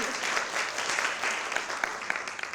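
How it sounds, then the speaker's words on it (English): Summit audience applauding, a fairly faint, continuous patter of many hands clapping, even and sustained across the whole stretch. "That deserves some clapping."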